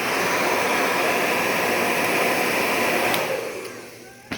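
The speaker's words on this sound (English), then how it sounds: "like this Diva dryer does not disappoint" A hair dryer with a diffuser blows steadily in a loud, broad whoosh, then its airflow drops off near the end.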